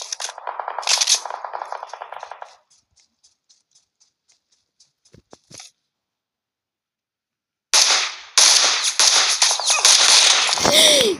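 Gunfire in a first-person shooter played at an amusement park map, with dense bursts of rapid shots at the start and again near the end, separated by a stretch of sparse faint clicks and near-silence.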